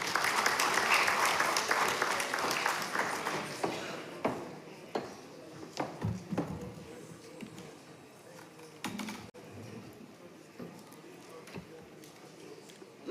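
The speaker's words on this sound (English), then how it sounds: "Please join me in welcoming Ms. Rebecca Adad-Donto with a round of applause" At a parliamentary orientation for members-elect, a room applauds to welcome a keynote speaker. The clapping starts full and loud, then thins out into scattered individual claps and fades near the end.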